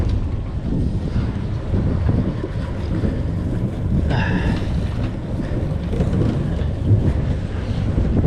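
Wind of about 18 knots on the beam buffeting a large catamaran (FP Saba 50) during docking, a loud continuous roar with microphone rumble and water wash, with a brief whoop partway through.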